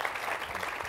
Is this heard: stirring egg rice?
no